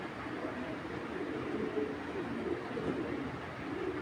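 Racing pigeons, including a female, coo in a loft: a steady, soft, dense murmur of overlapping coos with a constant hiss beneath, with no single call standing out.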